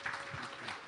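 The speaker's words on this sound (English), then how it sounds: "Let's give a round of applause for Dr." Conference audience applauding to welcome a speaker at a faculty of engineering event, a steady wash of clapping across the room lasting about a second.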